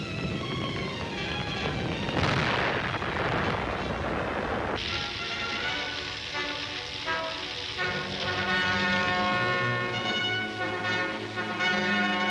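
Wartime newsreel artillery fire near Karlsruhe rumbles as a dense, continuous roar of booms and blasts, loud and unbroken throughout, with no talk over it.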